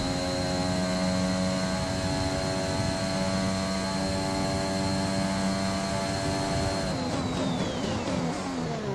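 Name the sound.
F1 car engine braking, from video game F1 2021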